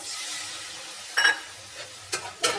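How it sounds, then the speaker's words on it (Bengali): Egg and potato curry with turmeric and water gets stirred in a pan, a soft simmering hiss broken by several short scraping knocks of the spoon against the pan. "জলটা দিয়ে দিয়েছি, জলটা দিয়ে আমি নাড়াচাড়া করবো।"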